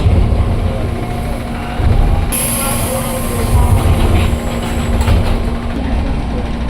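A KRL electric commuter train pulls out of an elevated station, heard from inside the car. A steady low rumble and motor hum build gradually, with a sharp high-pitched whine cutting in partway through.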